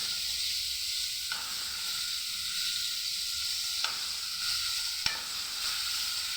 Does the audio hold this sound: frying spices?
yes